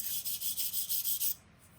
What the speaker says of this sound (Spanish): la rasparemos con un cepillo de púas de alambre